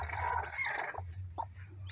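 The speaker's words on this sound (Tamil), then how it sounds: "7-8 குஞ்சு பொறிச்சிருக்கு. இப்போ பொறிச்சிட்டும் இருக்குது." Newly hatched chicks and a hen near eggs that are still hatching: faint clucking and soft peeping calls over a low steady hum, with no one talking.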